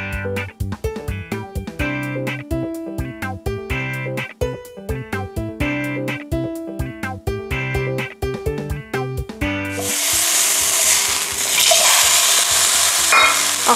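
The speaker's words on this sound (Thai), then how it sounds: "อันนี้เราจะให้สุกแค่ผิวนอกนะคะแล้วก็ตัวเนื้อข้างในเนี่ยจะยังแดงอยู่ทั้งทุกด้านเลยนะคะ" Maguro tuna searing in a hot pan: after about ten seconds of music, a loud, even sizzle takes over and holds steady to the end, close by and with no speech.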